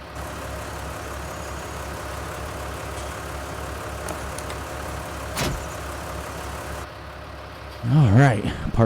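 A tractor engine idles in Farming Simulator 19 as a steady low hum under brief clicks and thumps, before a voice speaks over it at the end.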